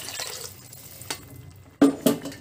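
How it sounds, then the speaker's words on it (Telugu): Rinse water from a mixer jar is poured into a pan of masala curry with sprouted black chickpeas. Faint, low liquid trickling leads into two short, louder splashes close together near the end. "మిక్సీ కూడా కడిగి ఆ నీళ్ళు కూడా అందులోనే వేసేస్తున్నాను"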